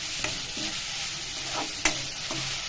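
Onions and curry leaves frying in hot oil in a pan, a continuous close sizzle broken by a few spoon scrapes and stirring knocks.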